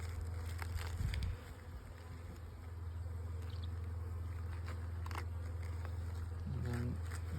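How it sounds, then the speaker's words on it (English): A low, steady buzzing hum of honeybees nearby, with occasional soft knocks and a brief louder buzz as one passes close. "A few more bees on there working on that."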